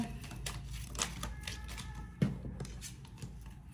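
Playing cards are drawn and shuffled close by, a quiet run of papery flicks, slides and soft snaps with a couple of sharper taps.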